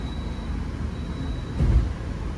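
The Jaka Tingkir economy-class train rumbles along on a night run toward Jakarta. A constant low rolling roar and vibration fill the scene, with a brief heavier thump of wheels over a rail joint partway through.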